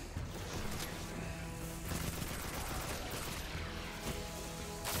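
A grenade blast and dense gunfire in the Destiny 2 shooter, a continuous loud barrage of overlapping shots and crashes with a few sharper bursts standing out.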